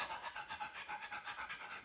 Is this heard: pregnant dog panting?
yes